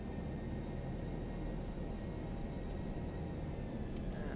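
A simulated airliner engine in X-Plane 11 drones as the throttle is increased during a Seattle to Portland flight, heard as a low, steady, rumbling roar with broadband hiss, constant in level and free of talk.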